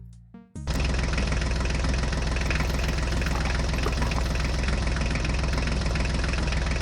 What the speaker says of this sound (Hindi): अरे अरे ड्राइवर, ट्रैक्टर को रोक दो यहीं पे।